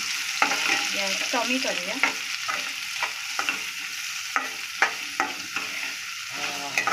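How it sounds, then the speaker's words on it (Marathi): Vertically sliced onions for Hakka noodles sizzle in a pan while a spatula scrapes and taps in an uneven rhythm, close and moderately loud, with a brief spoken phrase in between. "आता आपण ह्याच्यामध्ये टाकायचा कांदा जो आपण उभा चिरलेला आहे. तो परतून घेऊया"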